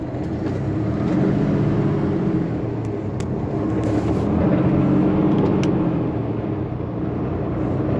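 A car cruises along a freeway, its steady road and engine rumble loud and continuous from inside the vehicle, with no talk.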